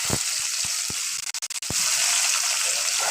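Chopped onion fries in a pan for a banana-stem or banana-flower ghonto, giving a close, continuous hiss. A few sharp knocks from a utensil sound early on, and a brief stutter breaks the sizzle midway.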